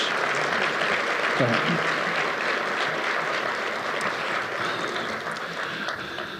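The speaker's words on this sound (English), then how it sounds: "Let's give all of our awardees one more round of applause for their incredible contributions." Lunchtime audience at an annual awards luncheon gives honorees a long round of applause, dense clapping that stays full and steady before easing slightly toward the end, with faint background murmur.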